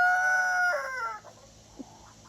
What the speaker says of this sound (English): the roosters feel like they need to interject